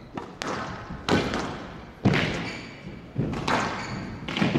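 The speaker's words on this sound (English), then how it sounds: "Some serious power in the overhead forehand volley there from Rodriguez." Squash ball hit with a powerful overhead forehand volley in a professional World Series Finals match, sharp impacts and thuds off the court walls at roughly one-second intervals, resonant in the enclosed court.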